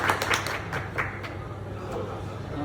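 A few people clap in a quick, brief burst in a butcher's kitchen where lamb chops are being cut, the claps rapid at first and then thinning out into background noise.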